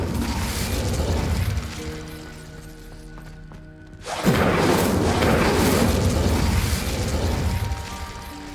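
A fiery Incendio spell cast in Hogwarts Legacy, with a sudden loud whooshing burst erupting midway after a quieter stretch of magical ambience, then a sustained roaring blaze filling the remainder.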